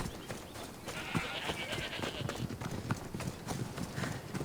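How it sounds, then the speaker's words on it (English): Goats in the video game Assassin's Creed Odyssey, heard as steady hoof clatter and faint bleats on a trail among game ambience, fairly close and continuous. "Run past our little goat friend things."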